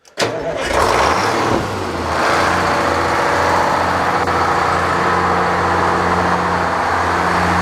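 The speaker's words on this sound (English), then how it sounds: "We'll start the engine here." A vehicle engine cranks and catches, then settles into a steady, loud idle that briefly rises before holding an even drone, close by and with no talking.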